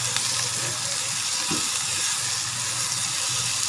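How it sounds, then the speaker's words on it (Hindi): Carrots fry lightly with onions in a pan, giving a steady, close, dense sizzle with faint stirring scrapes throughout and no break. "सब्जियों को बहुत ज़्यादा नहीं पकाना है, इसे हल्का फ्राई ही करना है।"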